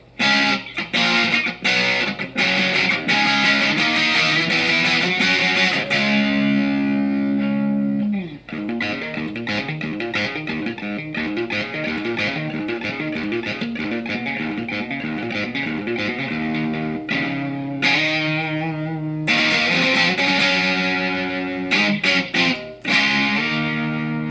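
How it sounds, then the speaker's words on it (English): Electric guitar played through a distortion pedal with the gain set low gives a gritty, crunchy tone, with strummed chords and single notes ringing out in bursts and sustained passages, loud and close. "Here's the distortion, down pretty low."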